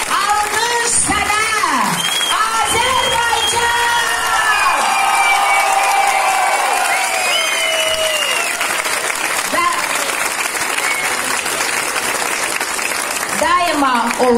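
A school crowd at a last-bell ceremony applauds and cheers, sustained dense clapping with children's shouts and whoops layered on top, swelling in the middle and carrying on through to the end.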